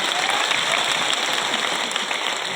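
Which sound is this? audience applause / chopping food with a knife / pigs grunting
audience applause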